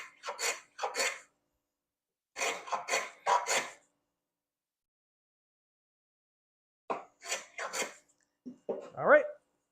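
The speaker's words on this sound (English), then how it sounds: "Long grain oak just, it planes so nicely." A hand plane shaves long-grain oak in quick rasping strokes, first a cluster of three, then four, and after a pause another group, each a close, crisp swish separated by silence.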